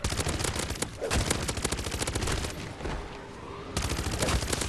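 An FJX gun in MW3 Zombies fires loud, rapid automatic bursts, nearly nonstop with one brief pause before the shooting resumes.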